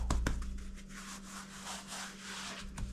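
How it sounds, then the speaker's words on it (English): A bare hand rubbing cinnamon filling into rolled-out dough, a soft, close, continuous brushing and smearing sound with a couple of light taps at the start, no speech. "Put your hand on there and just rub it in a little bit, like so."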